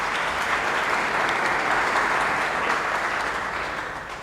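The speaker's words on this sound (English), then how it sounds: "Can we just give them a round of applause," A conference audience at a morning session applauds the organizers, a full, even wash of clapping from a large crowd, loud and sustained before easing slightly at the close.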